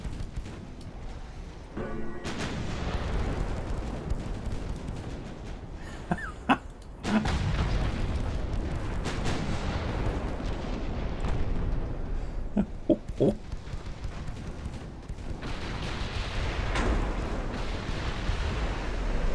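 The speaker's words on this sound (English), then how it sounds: "Look at all those 3-inch guns." Naval battle in Ultimate Admiral Dreadnought with rows of 3-inch guns firing: dense rumbling gunfire and booms forming a continuous loud wash, with sharper reports poking out, no talk.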